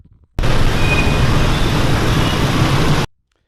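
Busy Hanoi street traffic, a loud dense roar of engines and road noise that starts abruptly, holds steady for under three seconds, then cuts off.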